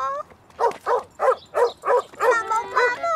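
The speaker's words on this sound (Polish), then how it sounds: "Pies szczekał tak groźnie." Cartoon dog barking menacingly in a run of about eight loud, evenly spaced barks, each sharp and close, filling the short stretch with no talk over it.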